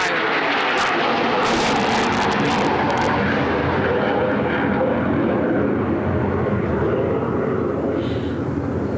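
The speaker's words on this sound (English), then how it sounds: "But that was our T-38 flyover." A T-38 jet flies over a Johnson Space Center remembrance ceremony outdoors, a loud, continuous broad roar that holds steady and slowly fades toward the end.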